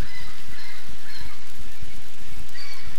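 Snow geese honk repeatedly at their Arctic nesting grounds beside land-fast ice, a steady chorus of overlapping calls over a constant wash of background noise.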